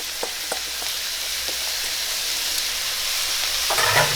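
Chopped celery and white onion, with carrots about to follow, frying in a pan for bolognese: a steady close hiss of sizzling with a few faint clicks, louder bursts of spatter near the end, no speech.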